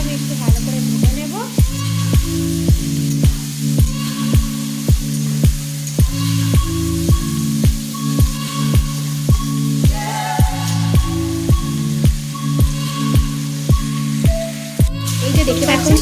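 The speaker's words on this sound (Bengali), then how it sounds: "আলুটাকে আমি একটু ভালো করে ভেজে নেব" Potatoes frying in a pan, a loud continuous sizzle up close, punctuated by regular sharp taps of a spatula scraping and turning the pieces about every half second.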